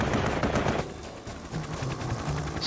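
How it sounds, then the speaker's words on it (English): Anti-aircraft fire pounding rescue helicopters in Vietnam: dense, loud bursts of rapid gunfire that ease off partway, with continued rumbling, crackling shots afterward and no voices. "The rescue choppers were pummeled with anti-aircraft fire."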